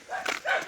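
A dog gives two short, soft barks or yips in quick succession, fairly quiet and close, with nothing else going on around them.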